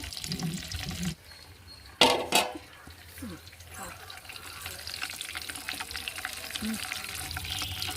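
Biryani spices drop into heated oil with a sudden sharp crackling burst that settles into a quieter, steady sizzle, with some faint background noise around it.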